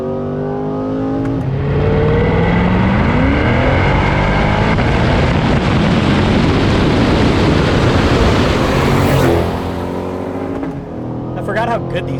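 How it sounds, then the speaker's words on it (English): Chevrolet Corvette C8 pushrod V8 revving hard, a loud rising roar that sweeps up and holds before dropping away, with a brief voice near the end. "Pushrod V8 noise"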